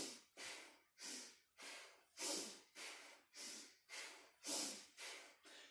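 Nine rhythmic breaths in a kundalini yoga exercise, each inhale and exhale a forceful, close airy rush, evenly paced at roughly one every half second with short gaps between.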